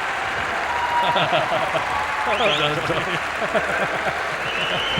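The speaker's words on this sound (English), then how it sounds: "Did you hear the crowd?" Crowd noise from spectators at the 1995 Silverstone Formula One Grand Prix, a broad cheer and applause swelling behind a commentator talking over it.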